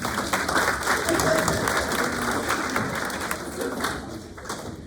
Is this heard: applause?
yes